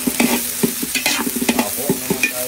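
Ginger, onion and garlic fry in hot oil in a pan, a steady close sizzle broken by repeated scraping stirs and clinks of a utensil, with no talking.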